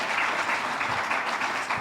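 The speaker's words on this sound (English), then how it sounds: "Let's give a round of applause to Zimbabwe." Brief, steady applause from an audience at an African student company competition and trade fair, a dense wash of clapping with no talk.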